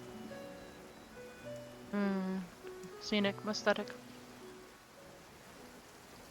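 Rain falls in the Genshin Impact video game, a steady, soft wash running the length of the passage beneath game music and brief spoken words.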